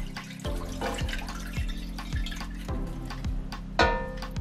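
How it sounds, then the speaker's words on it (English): Water from a tap or jug pours and drips into a cooking pot in a home kitchen, with soft splashing and a few distinct drips over a steady low hum, close and fairly quiet. "You pour the water in the pot."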